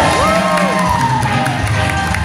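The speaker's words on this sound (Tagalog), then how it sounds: "let's give a big round of applause everyone for being here and celebrating this occasion with us" Crowd cheering and whooping at a staff Christmas party, a loud sustained roar of voices with scattered shouts and some clapping underneath, close and continuous throughout.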